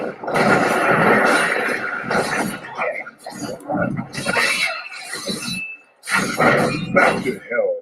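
A demon dog snarls in Diablo III during a Barbarian battle, its growls and squeals mixed into dense, loud combat noise and music with brief lulls.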